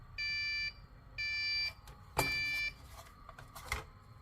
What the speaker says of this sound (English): We have a beep.